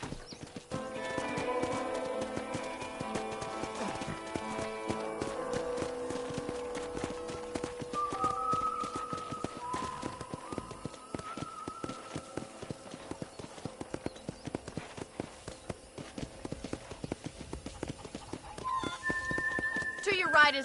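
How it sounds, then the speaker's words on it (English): Horse ridden in the video game Red Dead Redemption on a ranch, steady rhythmic clip-clop hoofbeats throughout with a whinny, under someone talking and game music. "let's see if you can still ride a horse"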